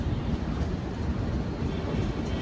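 An express train from Bengaluru to Howrah rolls along the rails past Tirupati, heard as a loud, steady low rumble with a constant roar and no distinct clacks or breaks.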